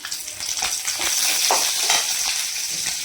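Garlic cloves and a bunch of curry leaves sizzle and crackle steadily in hot oil for an egg manchurian, a loud close frying hiss with occasional stirring scrapes and pops.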